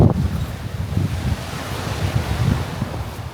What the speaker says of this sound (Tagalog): Ayan, lakas ng alon.